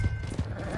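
Horse hooves clip-clopping in the Red Dead Redemption 2 video game, a short burst of steady hoofbeats close by, with a brief whinny mixed in.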